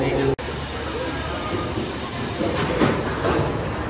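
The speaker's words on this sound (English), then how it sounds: "Train is now clear." An amusement park roller coaster train rolls out of the station on the Storm Chaser ride at Kentucky Kingdom, a steady rumbling clatter with a brief dropout near the start and brighter rattling swells toward the end.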